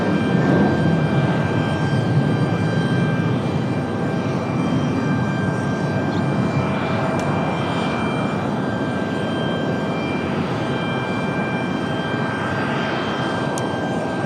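A jet airliner at Raleigh-Durham International Airport gives off a steady, loud roar that fills the whole stretch without a break or any voices.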